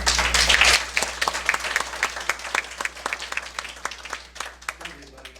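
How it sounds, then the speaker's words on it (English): Meeting audience gives a round of applause, a dense wash of many hands clapping that starts strong and gradually thins to scattered claps over about five seconds, with some talk underneath. "let's just once again give a round of applause and Godspeed to Michael."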